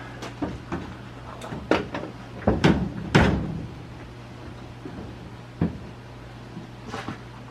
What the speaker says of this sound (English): And then we have to open the door to put the other two bolts in.